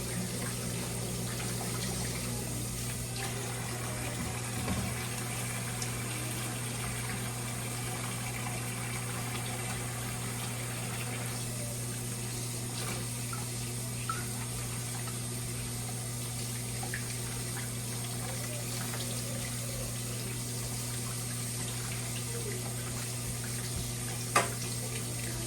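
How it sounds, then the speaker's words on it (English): A kitchen sink faucet runs in a steady, even stream with a constant hum underneath and a few faint clinks, no voices. "I use my knuckles to turn on the faucet."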